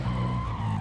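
A car's tires skid and squeal in the video game Warzone, a brief loud continuous screech over engine rumble.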